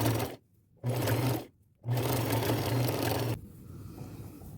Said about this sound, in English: I'm just going to line those up and do a straight stitch